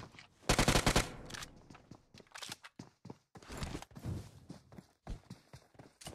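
Bursts of automatic gunfire in PUBG Mobile, rapid clustered shots in short volleys with gaps between, fairly close and sharp, mixed with scattered single cracks.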